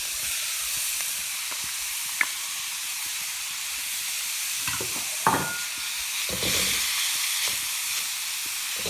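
Onions sautéing in a pan for spring rolls, a steady soft sizzle and hiss throughout with occasional stirring clatters and a brief utensil tap, close and moderately loud, no talking.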